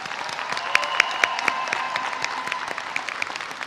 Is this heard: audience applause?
yes